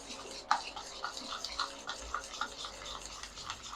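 Yogurt being whisked with powdered sugar in a bowl for mung dal dahi vada, a quiet run of soft, quick taps and scrapes close by with no voices.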